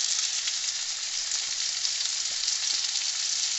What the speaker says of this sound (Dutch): De aardappelen is lekker aan het koken.